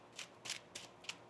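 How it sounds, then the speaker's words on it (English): Tarot cards are shuffled in four quick, soft riffles at a steady rhythm, faint and close, with no talk. "One more shuffle"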